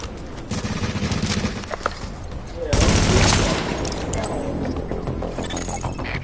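Gunfire in The Division video game, with a sniper in the fight: scattered sharp shots rattle early on, then a heavy blast erupts midway and decays into a sustained roar of combat noise.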